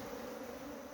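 Honey bees buzzing steadily at a hive in Guyana, a dense close-up drone that holds unbroken through the whole second.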